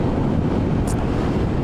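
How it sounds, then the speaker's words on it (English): Steady, loud wind buffeting on a helmet-mounted camera while riding a motorcycle, a dense low roar with no other clear sounds. "It's a bit windy"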